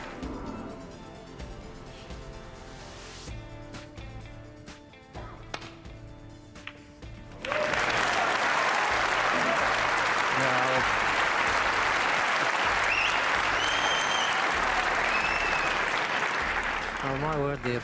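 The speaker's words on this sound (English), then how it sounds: "The applause certainly tells everything" Snooker audience at the 1991 Masters final bursts into loud, sustained applause about halfway through, following a quieter stretch where a commentator speaks over soft background sounds.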